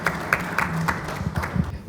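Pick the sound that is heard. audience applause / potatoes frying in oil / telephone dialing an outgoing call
audience applause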